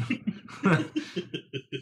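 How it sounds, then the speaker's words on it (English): Someone clears their throat in a quick series of short, rough bursts, close by, with a louder rasp near the start followed by several smaller ones. "That was actually me clearing my throat."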